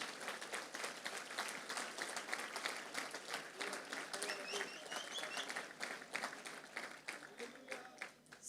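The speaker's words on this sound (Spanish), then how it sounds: "Dale un fuerte aplauso a Jesús" A church congregation claps in a strong round of applause for Jesus, rapid dense clapping rising and falling with a few voices mixed in, heard at a fairly low level.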